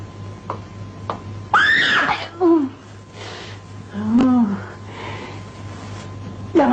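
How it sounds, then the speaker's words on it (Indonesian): A woman in a 1970 Indonesian film screams and wails in rising, strained cries, with gasps and sniffs between them against a low hum. "Jangan berteriak dong."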